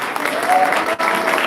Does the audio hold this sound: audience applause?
yes